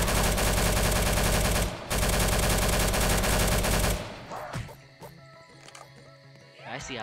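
Rapid, dense gunfire from the Roblox game Zombie Survival Tycoon roars continuously for about four seconds with one brief break, then gives way to sparser, quieter game sounds.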